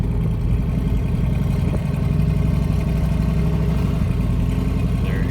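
A car with a rebuilt 4L60E automatic transmission and a new shift kit drives on a test run. Its engine drones steadily from inside the cabin, with a brief change in pitch around a gear change and no talking.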